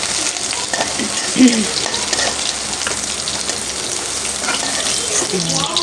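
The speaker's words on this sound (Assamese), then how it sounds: "চয়াবিনখিনি অকণ ভাজি ল'লোঁ সেইখিনি তেলতে" Soybean chunks frying in oil in a pan, a steady loud crackling sizzle with occasional stirring clinks, sustained throughout with no voices.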